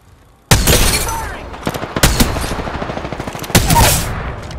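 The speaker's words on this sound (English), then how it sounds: "Nine shots fired and they're hitting me." Gunfire in Apex Legends erupts after a brief quiet, with loud close shots and rapid automatic bursts over about four seconds, mixed with game effects.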